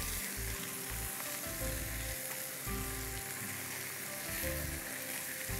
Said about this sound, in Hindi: ओके, चिकन को थोड़ा सा सॉटे करेंगे हम